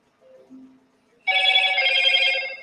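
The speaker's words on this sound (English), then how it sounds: "And of course, my phone's gonna go crazy." A phone rings with a sustained, bright electronic trill that starts abruptly and holds loudly after a brief soft tone, heard alone without talking.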